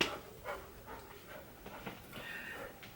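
Kobe, a pet dog, makes soft whimpers and yips close by, coming in a few short irregular bursts at low volume.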